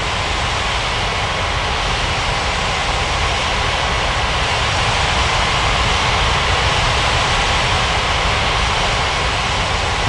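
KLM airliner landing on a runway in an air traffic control video game, heard as a steady, loud, broadband jet engine roar that holds unchanged throughout with no voices.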